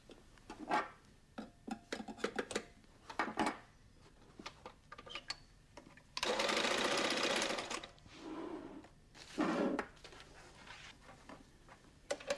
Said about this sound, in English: The machine runs to the edge of the carpet.